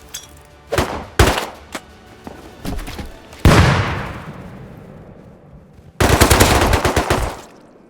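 Video game MP5 submachine gun fire: several short rapid bursts and single shots, a booming blast with a long decaying tail, then a loud final burst.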